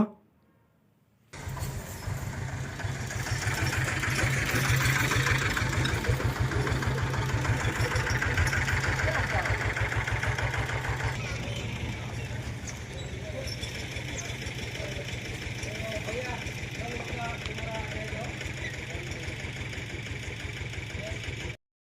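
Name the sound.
Massey Ferguson 35 tractor engine idling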